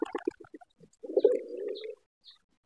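A white pigeon gives a single soft, rolling coo lasting under a second, preceded by a few quick clicks and rustles, close and otherwise quiet.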